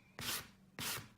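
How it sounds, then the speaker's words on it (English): A fine sanding block rubs over a chalk-painted wooden desk in two quick, distinct abrasive strokes, close and soft with a short pause between. "I'm just going to use this fine sanding block"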